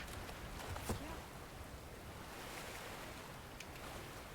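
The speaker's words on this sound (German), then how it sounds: "Boah, was für ein Wellengang." Ocean waves washing in the Fortnite video game, a steady rushing surf with a soft wind-like hiss, continuous and moderately loud.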